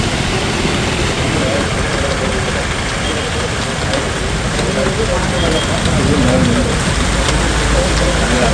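Heavy rain pours down in a steady, loud wash across a wide area, with a low engine-like rumble underneath and a news reader talking over it throughout.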